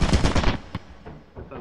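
Rapid automatic turret gunfire in the video game Lethal Company rattles out in a quick burst, followed by a few fainter, scattered shots.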